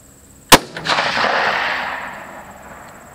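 A single sharp rifle shot from a 6.5 Creedmoor Ruger Predator with a muzzle brake cracks loud and close at a 300-yard range, then rolls off in a long, fading echo.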